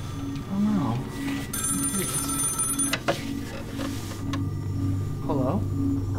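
A telephone rings in repeated trilling bursts, a steady electronic ring cycling over and over at moderate distance while people talk over it.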